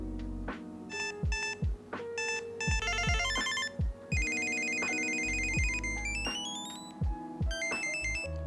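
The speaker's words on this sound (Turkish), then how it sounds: "SmartTag'in zil sesi uygulama içerisinde yer alan alternatifler kullanılarak değiştirilebiliyor da." A Samsung SmartTag Bluetooth tracker plays a bright electronic ringtone, a quick melodic jingle of beeping tones, repeating phrases over several seconds, clear and close with nothing else audible.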